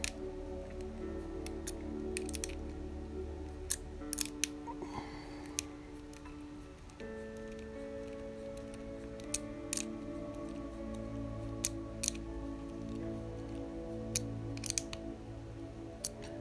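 Parts are screwed into the rear upright of a Tamiya Squash Van model kit, making light plastic ticks and clicks at irregular intervals, close and quiet, over a faint steady hum.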